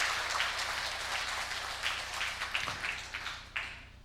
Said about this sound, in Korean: 여러분이 칠 수 있는 최고의 박수를 하나님께 드리겠습니다.